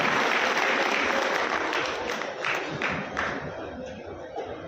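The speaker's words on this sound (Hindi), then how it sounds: "कृपया जोरदार तालियों से स्वागत करें" An outdoor crowd at a World Tribal Day gathering in Harda gives loud, sustained applause to welcome the village sarpanch of a gram panchayat. The clapping is dense at first and eases slightly as it goes on, with faint crowd noise beneath it.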